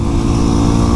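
Yamaha WR250R motorcycle riding twisty roads, its engine a steady close drone with a fluttering low pulse and wind rush throughout, no voices over it.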